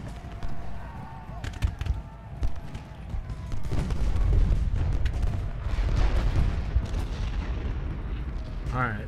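Canister shot artillery in Ultimate General: Gettysburg, with scattered booms and crackling volleys building into a dense rumble midway, heard beneath a voice.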